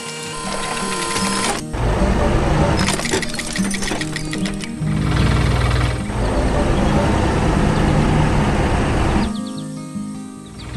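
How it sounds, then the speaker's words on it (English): A red tractor pulling a heavy load in a children's vehicle game gives off loud clattering, ratcheting mechanical chugging in bursts, with short gaps and cartoon sound effects, and no voices. "The red tractor is pulling so much weight. Chugga chugga choo choo."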